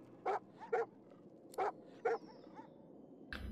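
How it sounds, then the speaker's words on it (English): Bruno the dog gives four short, excited barks in Divinity: Original Sin 2, spaced apart and close, over a quiet game background, with a faint sound at the very end. "Bruno barks, beside himself with joy"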